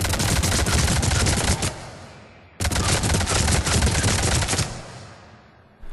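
Avenger assault rifle in Mass Effect 3 fired from the hip at point-blank range: two loud, dense full-auto bursts of rapid gunfire, each trailing off, separated by a brief gap.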